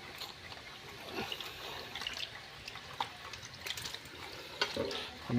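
Fresh water pours and splashes into a fish tank setup for koi and magur catfish, a steady low wash with small sloshes and drips, moderately quiet and close.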